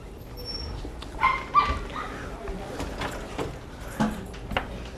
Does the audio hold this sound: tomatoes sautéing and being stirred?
no